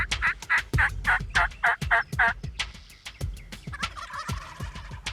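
Wild turkeys give rapid gobbling calls that repeat in a steady string, loud and close, with sharp crackling clicks scattered throughout and a busier, rustling texture toward the end.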